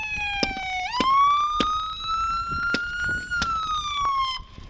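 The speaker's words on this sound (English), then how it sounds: "Turn that siren off." A police car siren wails steadily after a high-speed chase in Brooklyn, its tone sliding up and holding loud and close, with sharp clicks and knocks breaking in over it.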